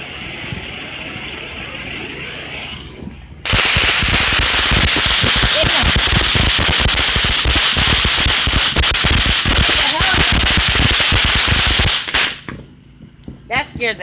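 Fourth of July firecrackers or fireworks crackle and pop in a dense, loud barrage of rapid bangs lasting several seconds, then end abruptly, with quieter voices before and after.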